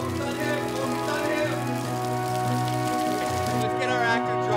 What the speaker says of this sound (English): can we make the rain heavier?